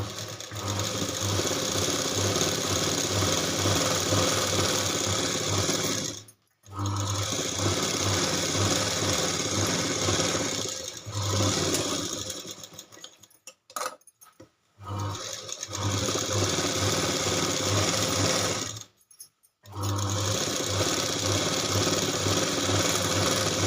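An electric sewing machine stitching a garment runs in long, steady whirring bursts, stopping briefly three times before starting again, close and loud with no talk.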